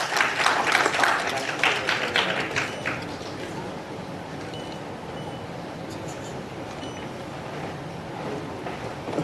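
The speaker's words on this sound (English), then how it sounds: "Huge round of applause for Govinda ji." Audience clapping for a speaker at a hackathon event: a burst of many hands over the first few seconds that fades into a low, steady room hum.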